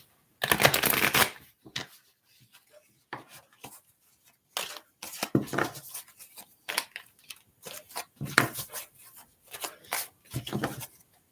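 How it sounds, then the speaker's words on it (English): Tarot cards are shuffled in repeated bursts of crisp riffling and sliding, close and clear, separated by short pauses over about eleven seconds, with no voice. "so I'm going to pull some tarot cards for you"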